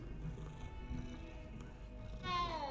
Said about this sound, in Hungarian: Cica.